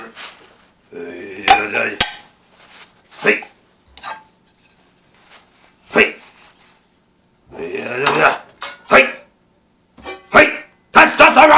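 Pots and pans clang and clatter in loud, close bursts of metallic banging and rattling, separated by brief silent gaps.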